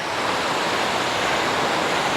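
The Tapovan waterfall near Patho village pours in a steady, loud, broadband rush of falling water that stays constant throughout, with no voices.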